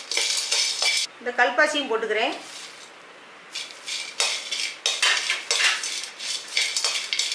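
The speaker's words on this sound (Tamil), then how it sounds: "இப்போ எல்லாம் சேர்த்து கொஞ்சம் வறுத்துக்கலாம்." Whole garam masala spices dry-roasting in a pan, a close, dry rattling and scraping of hard spices stirred against metal in repeated bursts, with a brief voice in between.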